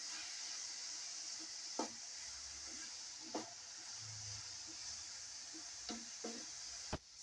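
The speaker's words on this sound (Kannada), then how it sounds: "ಇದನ್ನು ನೀವು ಒಂದು 5 ನಿಮಿಷ ಚೆನ್ನಾಗಿ ಫ್ರೈ ಮಾಡ್ಕೊಳ್ಳಿ. 5ರಿಂದ 6 ನಿಮಿಷ ಚೆನ್ನಾಗಿ ಫ್ರೈ ಆಗಬೇಕು," Fried rice frying on a high flame: a steady, moderately faint sizzle with a few sharp spatula taps against the pan spaced several seconds apart.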